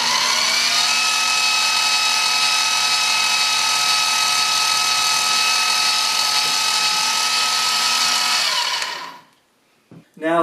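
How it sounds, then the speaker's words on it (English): A loud, steady high-pitched whine of a power drill boring a hole in a 1976 Mazda RX-5 instrument cluster, running continuously for about nine seconds, then stopping abruptly, followed by a brief voice. "Just drill your hole."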